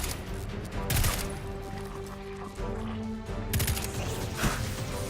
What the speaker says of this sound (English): they've definitely increased the hive head explosion experience